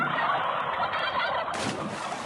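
A turkey gobbles in a rapid, rattling burst, loud and close, that carries on for about two seconds.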